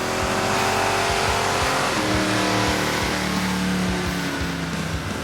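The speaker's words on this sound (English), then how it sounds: "From the minute we fired her up, we could tell she had a deeper growl." A 1973 Buick Century V8 revs hard on a dyno with a deep growl, its pitch climbing through repeated sweeps and gear-like steps, loud and close.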